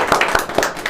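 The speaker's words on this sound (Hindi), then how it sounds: "और एक बार चाहूँगी जोरदार तालियों के साथ में हम उनका स्वागत करेंगे" Scattered clapping welcoming a newly appointed project director at an indoor team event, a handful of sharp claps in a loose rhythm, fairly close, with no talk over it.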